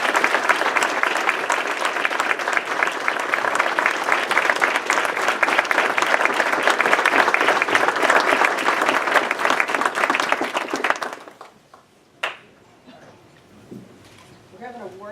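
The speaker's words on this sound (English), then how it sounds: "I'd like to give a big round of applause for" A big round of applause for a town fire chief at a town council meeting, dense and steady for about eleven seconds before cutting off abruptly, followed by quiet room sounds and a single sharp knock.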